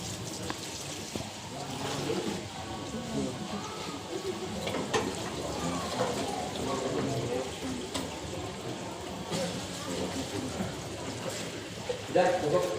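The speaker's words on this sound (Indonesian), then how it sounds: "Lalu saya siram." Water pours and splashes steadily over a body being washed for burial, a continuous running-tap wash heard close up with faint voices beneath.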